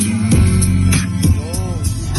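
Loud, booming bass music thumps through replaced car door speakers, with deep low tones dominating and some higher musical notes above.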